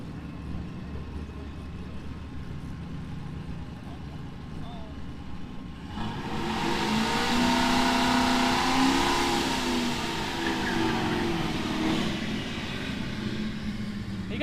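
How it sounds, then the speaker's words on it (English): Supercharger blower whine from an Australian drag car staging for the water box, a sustained engine drone that swells loud midway and holds steady. "You can hear that blower whining as they're getting ready to pull it into the water box."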